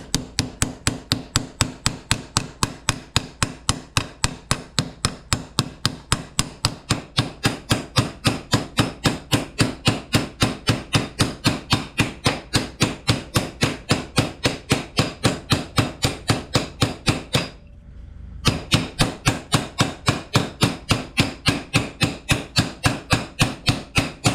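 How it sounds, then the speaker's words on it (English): Ball peen hammer striking a sanded bellows head in rapid, even taps, dozens of sharp blows in steady rhythm, close and loud, with one short pause near the end before the hammering resumes. "I'm just going to take a ball peen hammer and kind of"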